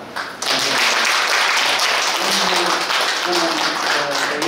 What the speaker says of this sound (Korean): 이점에서 감히 제가 최영용 교수님께 큰 박수를 한번 청하겠습니다